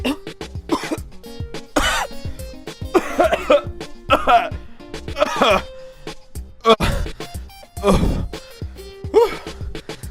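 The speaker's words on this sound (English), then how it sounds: "it's about time I got rid of that cough." Repeated harsh coughs come in bursts over about ten seconds, close and loud, mixed with throat clearing and heavy breaths.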